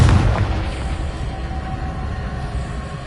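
Confringo explosion spell cast at rocks in Hogwarts Legacy on PS5, a deep booming blast that hits hard at the start and then rolls into a long, rumbling low decay.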